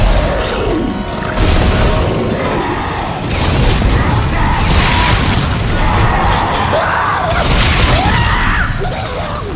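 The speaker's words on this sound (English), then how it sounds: "I forgot I even bought this gun. This is a line gun." Heavy weapon blasts from the line gun in the sci-fi horror game Dead Space 2, loud booming bursts in several waves over a dense, roaring action soundscape, with no clear talk over them.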